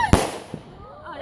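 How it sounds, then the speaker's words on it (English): A single loud firework burst up close for the 4th of July, a sharp bang with a fading crackle and a smaller pop after it. "we're doing fireworks to the 4th of July"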